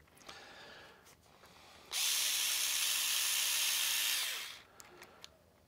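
A Parkside cordless drill driver with a drill bit whirs steadily for about two seconds at close range, spinning up and winding down, with quiet handling noises before and after.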